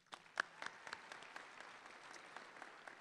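At the Red Tie 2016 event honoring Razorback athletes, the audience gives a round of applause, soft and distant, with a few sharper claps early on over a steady patter.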